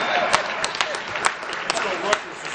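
Audience applause for Eric LeGrand at the Chairman's Award Dinner, a steady wash of many hands clapping with scattered sharper claps throughout, fairly close and even in loudness.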